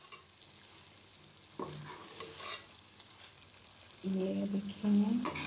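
Chicken for chicken kadai being stir-fried in a pan, a soft sizzle with scraping stirs that grow louder near the end, and someone speaks briefly over it.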